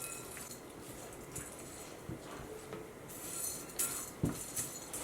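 Crunchy parmesan peas being mixed with cheese in a bowl, soft clinks and scraping of a utensil against the bowl, quiet and intermittent with a few sharper taps near the end.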